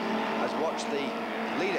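Race cars roaring around the North Bend hairpin at Lydden Hill in a special GT race, a steady engine drone with rising and falling revs as cars pass, under continuous commentary.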